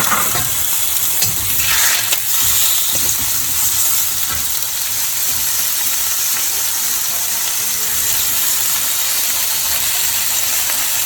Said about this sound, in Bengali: আমি চিকেন এবং চিংড়ি একসাথে রান্না করছি।